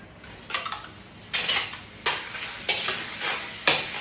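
Chicken is stir-fried in a dry pan, each toss of the spatula bringing a burst of sizzling and scraping in a rough rhythm of about six strokes.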